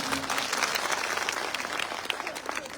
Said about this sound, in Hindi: तालियां बजाओ जोरदार।